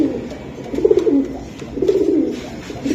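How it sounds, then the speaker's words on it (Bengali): Pakistani pigeons of the Giribaz breed give soft, throaty coos close by, two rising-and-falling bursts within a few seconds. "এই যে আরেকটা কবুতর।"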